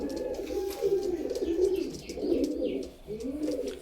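Pakistani Royal Teddy pigeons coo close by in soft, rolling phrases that rise and fall in several bursts, with brief chirps in between.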